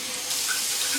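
Tap water running steadily into a sink to rinse out a coffee maker's pot, a brief, even stream with no talking.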